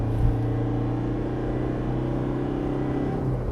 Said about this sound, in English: Especially when the turbo starts spooling above 2000 RPM, there's plenty of torque and just tons of effortless overtaking ability.